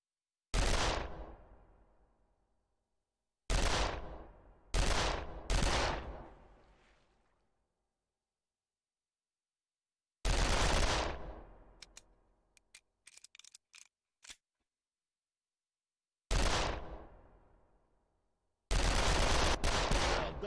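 An old rifle in the video game Darkest of Days fires about six single sharp shots with long gaps and decaying echoes, with clicking reload sounds between two of them.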